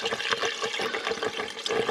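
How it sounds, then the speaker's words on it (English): Recovered antifreeze poured from a container into a Jeep Gladiator's cooling system, a steady close gurgling liquid stream running throughout. "Just gonna pour in the antifreeze we tried to save out of this."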